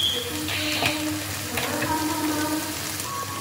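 Broccoli frying in a pan as a spoon each of soy sauce and vinegar hits the heat, a steady close sizzle with faint clinks and stirring scrapes, no talking.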